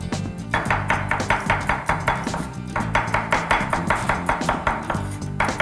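A knife slices garlic on a cutting board while preparing Thai basil pork, with a steady run of quick, evenly spaced chops, close and clear with no talk.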